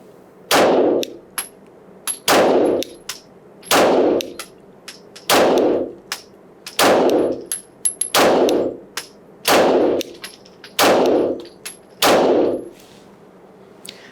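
An American FMK 9C1 pistol is test fired: about nine sharp, loud shots spaced a second or so apart, each followed by a ringing metallic clang, with no talking.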